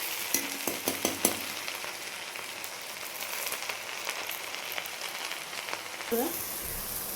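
Salted leafy greens are stirred in a frying pan, a soft crackling sizzle with scattered utensil clicks near the start, close and quiet, ending with a brief scrape.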